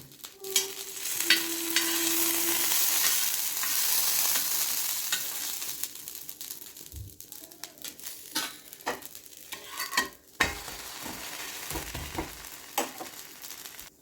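Butter sizzling on a hot dosa griddle, a hissing fry that fades after a few seconds into sparse scrapes, taps and clicks of a spatula, close by and moderately quiet, without speech.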